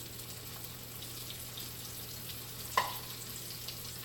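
Jamaican jerk chicken fries in hot oil over medium-high heat, giving a steady, soft sizzling hiss throughout with one brief clink partway through.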